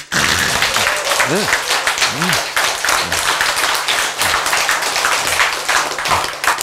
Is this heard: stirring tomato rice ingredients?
no